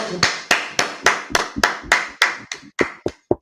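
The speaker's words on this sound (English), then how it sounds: "clap it up, clap it up, clap it up" One nearby pair of hands claps about a dozen sharp, evenly spaced times, and the rhythm loosens slightly toward the end, with a faint voice heard between the claps.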